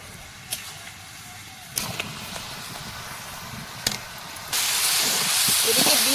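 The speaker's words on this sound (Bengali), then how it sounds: "এখন ভাজা মাছগুলো দেবো।" Fried magur fish pieces go into boiling potato dal with a couple of soft drops, then a strong, steady steaming hiss and bubbling rises and continues to the end.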